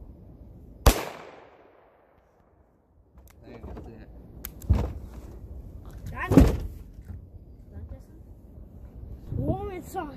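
Snub-nose revolver fired outdoors at a target, several sharp reports spaced a few seconds apart with people talking between shots.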